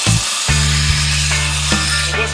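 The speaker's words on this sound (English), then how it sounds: "That's where the bevel starts and I grind towards the tip." Grinding the bevel of a forged knife blade on a powered grinder, a loud steady whine with a low motor hum and short scraping bursts as the steel meets the belt.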